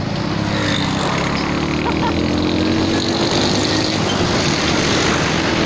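Steady, loud engine and road rumble from a vehicle overtaking a tractor on a rural Punjab road between Gohrwala and Bhakkar, a continuous close drone with wind noise and no break.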